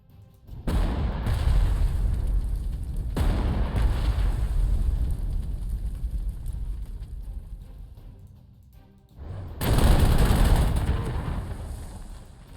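Tank combat in the strategy video game Panzer Corps 2, Hel Peninsula scenario: three loud explosive booms, each followed by a long rumbling decay, with the last blast the sharpest.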